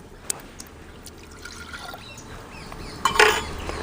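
A soft trickle of water runs under a low background hum, swelling into a louder, fuller pour near the end, as water is poured onto fried greens.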